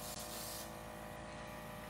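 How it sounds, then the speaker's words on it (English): Spray colour misting onto a cake board, a steady close hiss filling the whole stretch with a brief dip near the start. "I'm spraying too high, so I'm getting a border in there."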